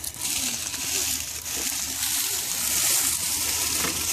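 Water flowing in a creek about fifteen to twenty feet wide, a steady hissing rush with gurgling, moderately loud and continuous without speech.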